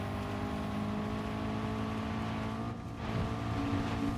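A 1.4-litre, 1397 cc pushrod four-cylinder car engine in Gran Turismo 7 drones steadily with a constant harmonic hum, dipping briefly before pulling again, heard alone without talk.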